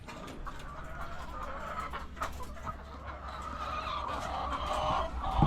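Several laying hens cluck and murmur close by inside a chicken coop, with scattered sharper calls and rustling, growing a little louder toward the end.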